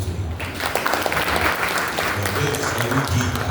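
Audience at a university talk on blockchain and Web 3.0 giving applause, a dense steady clapping wash with a voice speaking over it.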